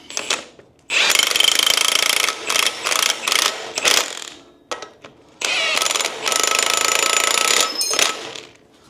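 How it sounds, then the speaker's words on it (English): An impact wrench hammers lug nuts on the front end of a 1968 C10 fitted with QA1 and Wilwood parts, loud rattling bursts of varied length separated by brief pauses, close up. "We'll run this up with the impact"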